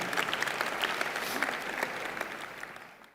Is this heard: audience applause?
yes